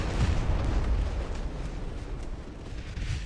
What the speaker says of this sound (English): Oh, that's a torpedo.